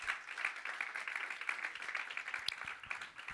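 A church congregation claps for the Lord during a Spanish-language service on the Lord's Supper, producing a dense, steady patter of many hands at moderate distance.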